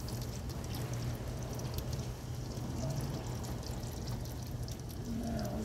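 Heavy rain from the outer bands of Hurricane Idalia near Gainesville, Florida, a steady loud wash pouring down without pause, close and continuous, with wind behind it.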